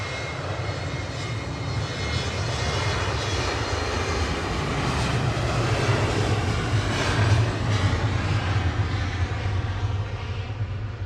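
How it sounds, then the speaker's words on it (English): A KLM airliner departs Manchester Airport for Amsterdam, its engines a loud, steady roar that swells slightly midway and holds throughout without talk. "KLM 1030 there, departing back to Amsterdam"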